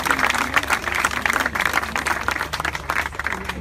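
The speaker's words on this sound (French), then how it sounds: "Je vous propose d'applaudir Jean-Pierre Rapport." Lively applause from a crowd at a political campaign meeting on education reform, loud and close, with many hands clapping in a busy, uneven rhythm that rises and dips slightly throughout.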